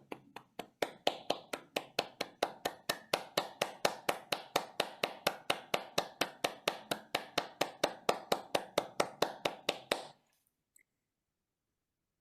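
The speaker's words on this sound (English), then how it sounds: "we'll clap our hands for 30 seconds" A group of meditators clapping hands together at the close of a group meditation session, a fast, regular run of sharp unison claps lasting about ten seconds, then stopping abruptly and leaving near silence.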